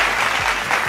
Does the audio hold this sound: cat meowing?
no